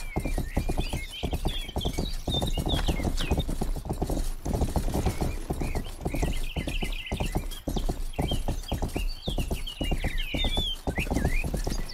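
Horse hooves clip-clop steadily and evenly in the video game Rustler, a continuous close trotting rhythm with faint chirping birds above it.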